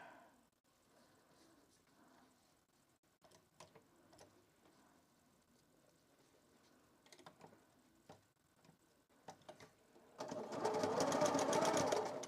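A sewing machine stitching a plushie runs in a loud, steady burst near the end, after a long stretch of quiet handling ticks and small clicks.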